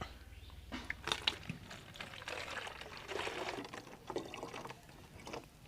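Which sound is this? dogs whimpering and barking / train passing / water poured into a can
water poured into a can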